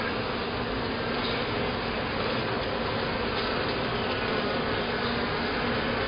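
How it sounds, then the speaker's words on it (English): Agitated honey bees swarm inside an opened hive during an inspection, a dense, steady buzzing drone that stays loud and close for the whole stretch, with no voices over it. "there is a definite change in the number of bees in this hive, and they're a little agitated"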